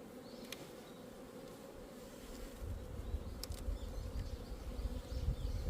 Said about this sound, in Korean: 격리판 안쪽에도 벌이 쫙 깔렸잖아요